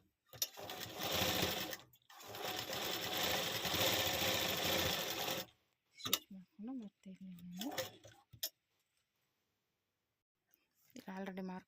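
A sewing machine stitches folded fabric for a dori design in long, steady whirring runs, then shorter bursts separated by pauses, with a person speaking briefly between the stitching.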